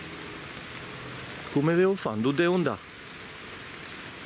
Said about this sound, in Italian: Però adesso piove troppo per ritornare a casa.